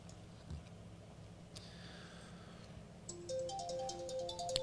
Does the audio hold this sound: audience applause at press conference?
no